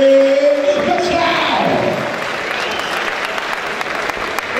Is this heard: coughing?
no